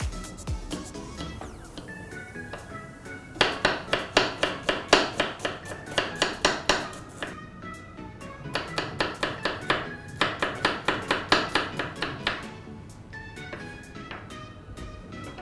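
A knife finely chops potato on a cutting board, striking in quick, rhythmic bursts of crisp, close taps with short pauses between the runs.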